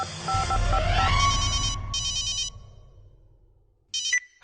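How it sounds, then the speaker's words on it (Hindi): A telephone ringtone chirps in repeated electronic bursts as a call is placed from a quiz show set, the rings clear and close over a low background hum, fading to quiet before a final short burst. "कंप्यूटर महाशय, राजा बाबू के पिताजी को फोन लगाया जाए गाजीपुर"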